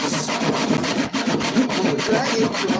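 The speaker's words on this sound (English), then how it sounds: "So I'm going to saw this piece of wood." Crosscut hand saw dragging through a piece of wood up close, rapid rhythmic rasping strokes in a steady back-and-forth pattern, loud and continuous.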